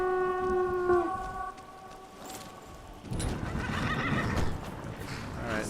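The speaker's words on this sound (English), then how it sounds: "Horsey." Horse in the video game Skyrim giving a loud, clear whinny, followed by hooves clip-clopping and shuffling movement nearby.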